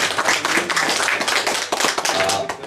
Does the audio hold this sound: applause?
yes